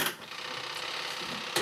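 A compact twin tub washing machine runs with a quiet, steady mechanical whir and faint rhythmic ticking, opening and closing on brief louder bursts.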